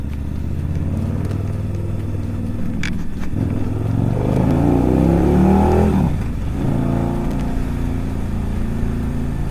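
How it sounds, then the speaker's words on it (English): A big Chevrolet pickup passes by on a road in Alaska, its engine swelling louder and then fading, set against steady wind and motorcycle engine rumble. "There's a big ass Chevy."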